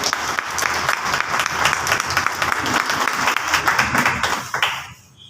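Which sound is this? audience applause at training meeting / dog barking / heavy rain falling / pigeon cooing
audience applause at training meeting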